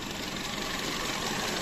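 A 2016 Skoda Octavia with a 1.6 engine and automatic gearbox idles, giving a steady, dense hum close to the microphone with no voices.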